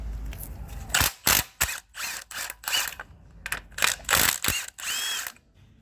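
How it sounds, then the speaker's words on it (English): Ratchet clicking in repeated bursts while nuts are removed from the engine mount studs of a Ford Focus, close and fairly loud, with short pauses between runs of pawl clicks. "Set those aside, get the nuts off."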